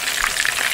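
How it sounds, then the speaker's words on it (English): Flautas sizzle and crackle in hot grease in a pan, a steady dense frying hiss filling the clip at close range with no talk over it. "So we're going to go ahead and let those fry up."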